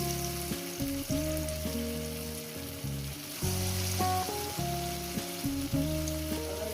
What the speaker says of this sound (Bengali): তেলটা গরম হয়ে গেছে আমি অল্প অল্প করে চামচের সাহায্যে বড়গুলো দিয়ে দেবো